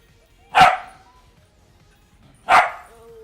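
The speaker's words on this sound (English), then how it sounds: "Hush, little Pepper, please stop barking." Two sharp, loud barks about two seconds apart from Pepper, a small dog in the video game Astro Bot, each with a short tail, over a quiet background.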